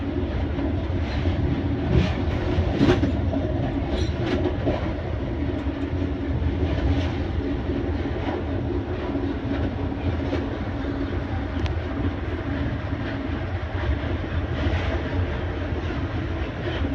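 An Amtrak passenger train rolls along the tracks westward, a steady loud rumble with rhythmic clicks of the wheels over rail joints, continuous and close, heard from aboard.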